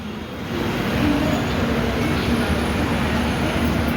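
A Shatabdi train at Pune railway station gives a steady, loud rumble of rolling stock and platform noise throughout, broad and continuous with no clear peaks; no speech stands out.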